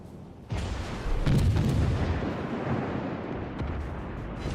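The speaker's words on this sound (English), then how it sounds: "I'm under fire from those cruisers up there" Enemy cruisers' naval gunfire in a warship video game, a dense, loud rumbling barrage with heavy booms that swells after a half-second and keeps roaring continuously.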